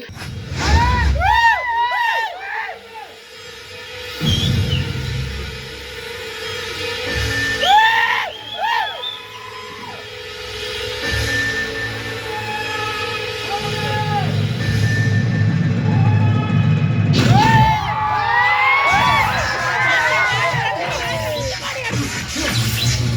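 Cinema audience at a Ghilli re-release screening starring Vijay, whooping, yelling and whistling in bursts over a steady crowd roar, with a loud swell of shouts and whistles near the end.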